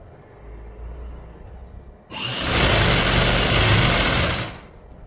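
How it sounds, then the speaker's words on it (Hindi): A sewing machine stitches around the hem of a trouser leg in one continuous loud, fast whirring run lasting a couple of seconds, close up, after a quiet start. "अब ये पूरे घेरे पर मैंने सिलाई लगा दी है"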